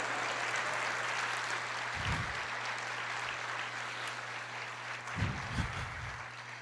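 A church congregation claps steadily throughout, a dense continuous wash of applause with no clear breaks, while low voiced bursts rise briefly twice over it.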